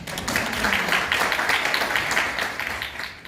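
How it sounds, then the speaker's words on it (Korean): Applause from a graduation ceremony audience at a cyber university degree conferral, dense clapping rising quickly and holding steady before easing slightly at the end. "박수로 모시겠습니다"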